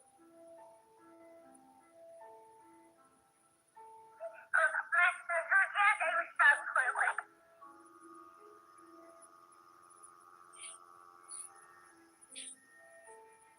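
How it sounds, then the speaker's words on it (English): An old telephone rings loudly in a dark, silent hallway of an abandoned building, a dense burst of ringing lasting about three seconds, followed by a steady sustained tone and quiet low sounds around it. "The last thing he expects to hear is the loud ringing of a telephone."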